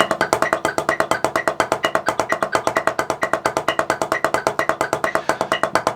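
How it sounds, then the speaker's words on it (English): A fast, even sixteenth-note double stroke drum roll, each pair of hits evenly spaced, played continuously and loud without pause. "if I were to play a double stroke roll using the 16th notes as my doubles"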